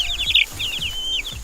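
Backyard chickens cluck in quick, repeated bursts close by, a run of sharp calls with brief pauses between them and no talking.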